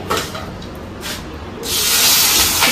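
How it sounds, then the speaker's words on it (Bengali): Fish frying in hot oil in a home kitchen, a steady loud sizzling hiss that swells sharply in the second half, close up, with no talk over it. "এখানে মাছগুলো ভেজে নিচ্ছে"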